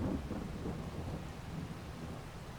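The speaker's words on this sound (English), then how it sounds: "And of course it's now going to rain in game." Rain falling with a deep thunder rumble inside Farming Simulator 22, the low roll strongest at the start and easing under a constant hiss.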